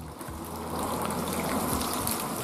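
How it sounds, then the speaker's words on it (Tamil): Ground masala paste for a Mysore chicken masala pours into hot oil in a kadai, giving a loud, continuous hissing sizzle that builds and holds steady without any talk. "நல்லா சூடாகணும் வந்து நம்ம அரைச்சி வச்சுருந்த அந்த பேஸ்ட்டை வந்து நம்ம இதில் ஊற்றிடலாம்"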